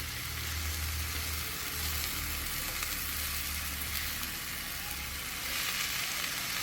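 Shiitake mushrooms sauté in a pan for a mushroom risotto, giving a steady, close sizzle and frying crackle that runs unbroken throughout with no talking.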